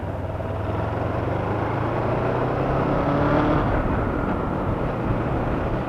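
A motorcycle pulls away from a second-gear start on a ride around Hemet, its engine a steady, close drone mixed with wind rush that swells slightly midway, with no talking.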